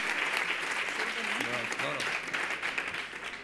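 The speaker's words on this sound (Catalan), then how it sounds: "un aplaudiment pel patrocinador, per la Patrícia, per aquest regal" An audience at an education technology event applauds a sponsor, a steady wash of clapping with a voice talking briefly over the middle.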